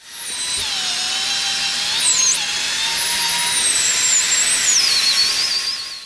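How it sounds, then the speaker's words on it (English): A power drill whines steadily at medium speed while polishing a car headlight lens, its pitch wavering up and down as pressure shifts, loud and close with no talking. "Drill polish the headlight on a medium RPM and apply medium pressure with a side-to-side action."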